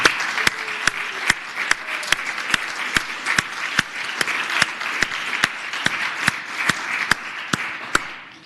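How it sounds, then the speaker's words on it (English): A round of applause rises in a Senate chamber, a steady patter of many hands clapping at a moderate distance, sustained for several seconds before fading at the end. "If the Senate would join me in giving the senator from Petersburg a round of applause for a happy birthday."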